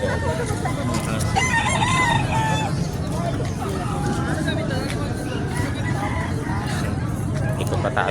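Chickens and roosters crow and cluck continuously amid loud crowd babble at a busy livestock market in San Carlos, Pangasinan, with overlapping calls throughout and no clear single voice dominating.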